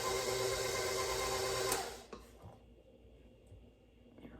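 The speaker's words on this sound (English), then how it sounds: "My mixer's getting ready to get a workout." Electric stand mixer beating cookie dough, a steady loud whirring motor that runs for under two seconds and then cuts off, leaving faint clatter and quiet room sound.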